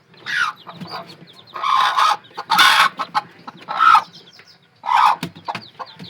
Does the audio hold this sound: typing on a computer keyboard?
no